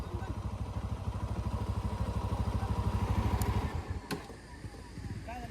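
A motorcycle engine runs steadily on a rainy mountain road ride, a close, even throbbing that eases off near the end as someone talks over it.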